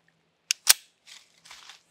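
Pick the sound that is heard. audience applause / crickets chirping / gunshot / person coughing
gunshot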